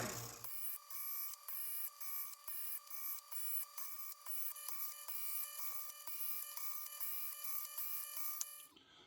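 A steady, continuous high-pitched grinding whir with faint rhythmic pulses from a Chef's Choice Trizor XV electric knife sharpener grinding a blade edge, running loud and unbroken for several seconds before cutting off.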